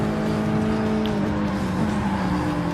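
Ford GT race car in Gran Turismo Sport racing, its engine holding a steady high-pitched drone with slight rising and falling pitch, loud and continuous with no talking.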